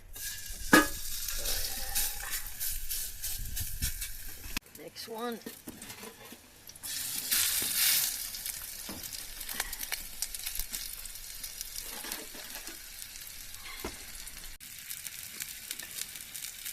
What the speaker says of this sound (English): I want to hear the sear.